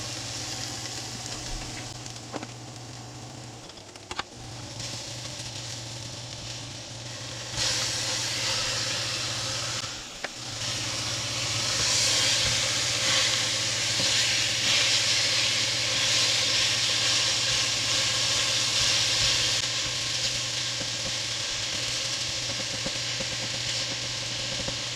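Ground beef hisses and sizzles in a hot pot for a one-pot pasta with mushrooms, peppers and onion, the steady close frying noise swelling louder after the meat goes in, over a low background hum.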